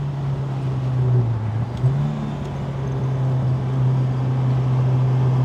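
An old MGB's engine drones steadily at speed on a race track, a loud, continuous in-cabin hum with a slight pitch dip and recovery partway through, under faint wind and road rush.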